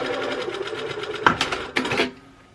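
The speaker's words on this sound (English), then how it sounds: "So I'm just going to sew straight down." A sewing machine stitches fabric for an oversized hair bow, running in a steady close, loud whirr of rapid needle strokes that pauses briefly, surges again and then stops.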